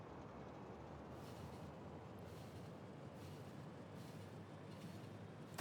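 A train departing in the video game Factorio gives a continuous low rumbling drone that holds steady throughout, with faint rhythmic clatter on top.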